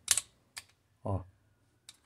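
A few scattered keyboard key clacks, sharp and close, with pauses between them and one short low thump in the middle; some keys stick as they are pressed.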